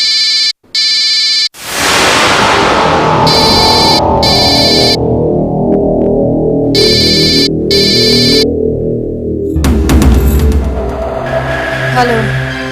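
A phone's outgoing call ringback tone plays in repeated loud bursts with short gaps between them, over a cluttered television drama soundtrack with a deep rumble building underneath.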